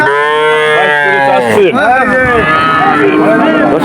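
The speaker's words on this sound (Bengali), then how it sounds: "আপনি কি 4টে নিয়ে আসছেন? আচ্ছা দর্শক, 4টে বাছুর নিয়ে" Calves at a cattle market in Betaga bellow loudly and close by, one long drawn moo breaking into another, with a crowded hum of market noise beneath.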